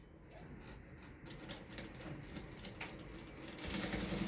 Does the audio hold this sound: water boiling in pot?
no